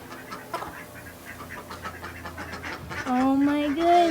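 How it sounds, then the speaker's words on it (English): Ducklings give soft, rapid quacking peeps and small calls, close by, growing louder and clearer toward the end, with a voice speaking over part of it. "I see lots of ducklings."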